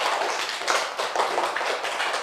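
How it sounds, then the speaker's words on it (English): A classroom of children claps for a student, a brisk, dense patter of many hands that holds at an even level for a couple of seconds, with no talk over it. "Give a good clap for her."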